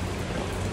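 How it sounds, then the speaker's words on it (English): Heavy rain pouring steadily near a roadside snail snack spot, a dense, even hiss of drops on surfaces with no gaps, alone and fairly loud throughout. "it's raining hard"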